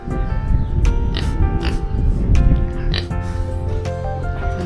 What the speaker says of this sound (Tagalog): Ang dami palang baboy damo, no?